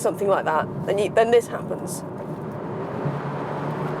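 Kia Niro PHEV plug-in hybrid with a 1.6-litre petrol engine pulling hard under acceleration, a steady, coarse, boomy drone that rises after a voice stops and continues alone.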